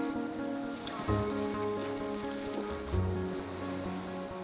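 Waves wash onto a remote beach on Socotra island in Yemen, a steady close surf rush with a couple of louder breaking swells, heard alone without voices.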